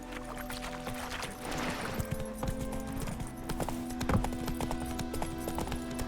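Hoofbeats of the horse Roach galloping in The Witcher 3 drum in a quick, steady rhythm at close range, with a light ambient bed behind them.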